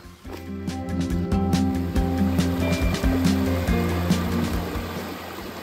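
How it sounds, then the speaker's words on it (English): A small waterfall spills over rocks at a creek crossing on the Ozark Highlands Trail, producing a continuous moderate rushing and splashing with a faint tonal gurgle throughout. "Just another of the many little creek crossings back here, but this one has just a little bit of a waterfall over here."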